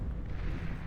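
A deep, muffled boom of long-range artillery fire in a strategy video game rolls through a brief low rumble, heavy and distant-sounding, with no speech.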